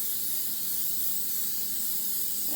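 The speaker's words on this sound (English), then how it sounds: "I want to spray them both with my Dollar Spray." Cooking spray from a dollar-store can misted onto a pan, a continuous soft hiss lasting a few seconds, close and fairly quiet with no talking.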